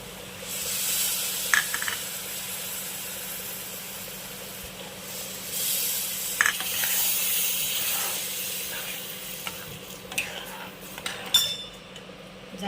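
Milk and water poured over roasted semolina for Khandeshi-style sheera, setting off a loud, hissing burst of steam that fades into a long sizzle, with metal utensil clinks and scrapes scattered throughout.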